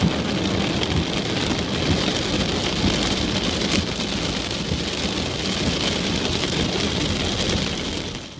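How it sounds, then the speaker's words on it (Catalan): A heavy rain downpour pounds steadily and loudly on surfaces with a dense, continuous roar and a faint rumble of thunder beneath it, with no break over several seconds. "la pluja es transforma en aiguat"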